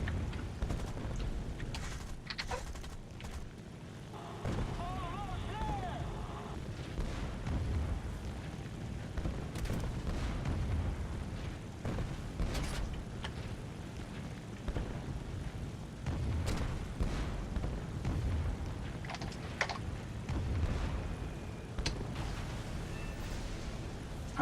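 Bombs exploding during an aircraft carrier attack in the War Thunder Pacific campaign, a series of deep booming blasts and rumbling impacts over constant engine drone, loud and irregular across the stretch.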